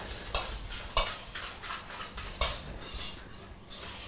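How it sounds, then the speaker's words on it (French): Sugar whisked by hand in a mixing bowl, a run of scraping, clinking strokes against the bowl, close and moderately loud, with no talk. "Et on va fouetter."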